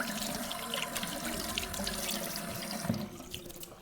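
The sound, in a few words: tap water running while wetting before shave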